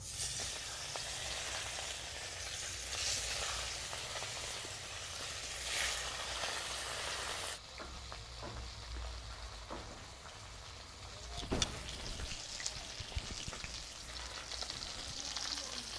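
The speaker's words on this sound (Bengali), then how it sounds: "তেলটা গরম হয়ে গেছে তেলের মধ্যে এবারে মাছ দিয়ে দিব" Hilsa fish frying in hot oil in a kadai, a steady close sizzle with a rain-like hiss that shifts in tone midway, punctuated by a few sharp clatters and pops, fairly quiet overall and without talk.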